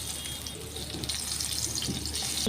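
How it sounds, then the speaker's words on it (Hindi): Pieces of parwal (pointed gourd) dropped one by one into hot oil, giving a steady, loud broadband sizzle that fills the whole stretch with a constant frying hiss and no talk. "ऑयल को अच्छे से गर्म होने के बाद अब सारे परवल एक एक करके डाल देंगे।"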